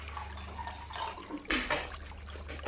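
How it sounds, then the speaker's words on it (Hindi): RO water is poured into a glass that already holds oil, a brief close splash and trickle of liquid over faint background hum. "मैं 1 ग्लास में जो है आपका आरओ का पानी डाल रहा हूं"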